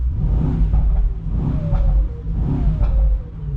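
A powerful Mercedes-AMG GT63 hybrid V8 engine revs repeatedly, rising and falling in deep, rumbling surges, loud and close.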